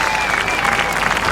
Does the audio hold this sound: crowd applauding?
yes